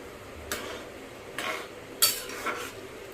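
A spoon stirs vermicelli in a pot while Ugadi pachadi is cooked, giving four or five short metallic scrapes and clinks at uneven intervals over a faint simmering hiss. No voices are heard.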